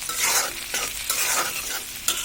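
Garlic pickle stirred in a hot frying pan with salt added, a steady sizzle broken by repeated scraping strokes of the spoon, close and alone with no voices.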